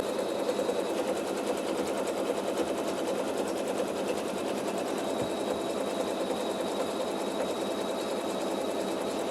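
Sewing machine stitching a placement outline on a quilt block, a steady, even mechanical whir with rapid needle ticking running continuously at moderate volume without pause.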